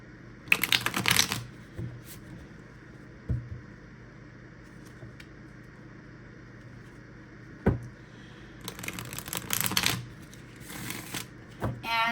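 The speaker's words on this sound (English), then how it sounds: "I'm going to shuffle the deck" A deck of playing cards being shuffled, with crisp riffling bursts near the start and again later, separated by quieter stretches with a few isolated taps.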